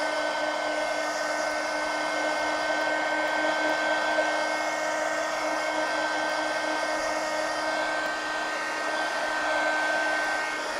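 A hair dryer blows steadily and loudly on a mixed media collage pumpkin to dry wet paint, a continuous close whir with a fixed tonal whine running unbroken without pause.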